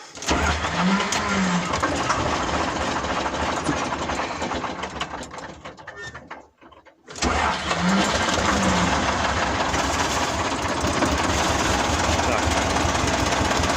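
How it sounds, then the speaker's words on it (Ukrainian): A tractor engine cranks and catches during potato digging, running loud and rough, cutting out briefly midway before roaring back and settling into a steady clatter. "Запускаємо трактор."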